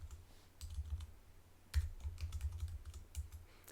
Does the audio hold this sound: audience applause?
no